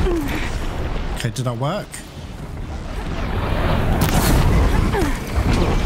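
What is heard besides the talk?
setting an enemy on fire in Horizon Zero Dawn video game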